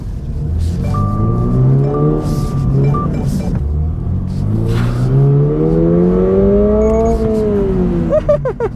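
A Subaru BRZ sports car in sports mode accelerates through several gears, its engine note rising in repeated sweeps with brief pauses between shifts, loud and close from inside the cabin.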